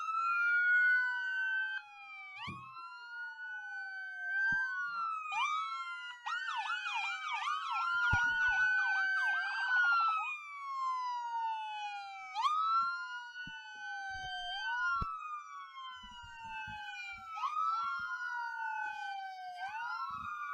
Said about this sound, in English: One thing that is certainly working in this parade early are sirens.